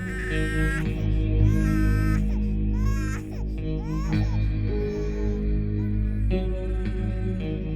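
Infant crying loudly in a domestic drama scene, wavering wails and sobs rising and falling continuously over a low background hum, close and dominant throughout.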